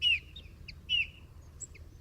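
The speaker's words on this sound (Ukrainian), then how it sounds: "Ви чуєте, якась пташечка співає під віконечком?" Small bullfinch singing under a window, two clear whistled notes about a second apart with softer chirps between, faint against a quiet low background.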